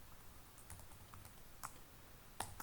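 Faint, quiet typing on a computer keyboard, a few sparse soft key clicks scattered over a couple of seconds with no voices.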